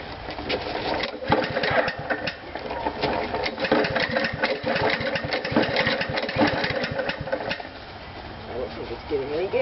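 A lawn mower with a faulty choke, held out while cold, starts and runs with a close, busy rattling engine clatter that keeps going steadily, a voice talking briefly near the end.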